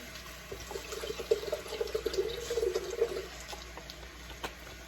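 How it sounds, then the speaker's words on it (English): Almond milk and coconut water poured into a blender, a steady liquid stream splashing for a couple of seconds against faint room hiss, fairly quiet and close, with no talking. "I do an almond milk base with some coconut water today"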